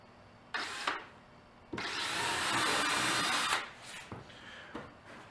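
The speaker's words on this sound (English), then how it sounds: "chalk up your drill bit again so that we can drill your pilot holes" A power drill bores pilot holes into a tire, giving one short buzzing burst and then a longer steady whine that stops, followed by faint tapping and handling noises.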